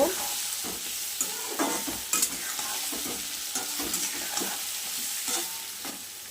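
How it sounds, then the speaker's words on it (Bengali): Chopped tomato fries in a pan for a parshe fish curry with potato and pointed gourd, a steady sizzle punctuated by repeated scraping stirs at an irregular rhythm, up close, with no talk. "আমার ভাজা প্রায় হয়ে গিয়েছে।"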